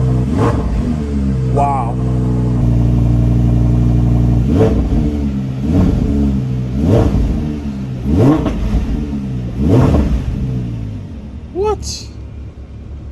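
A Lamborghini Huracan Spyder's engine revs hard at close range in repeated sharp bursts, each climbing and falling away over a steady idle rumble, with a brief exclaimed voice over the sound.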